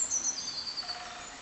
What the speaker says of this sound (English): Just in here we've got 2 woodpeckers calling to each other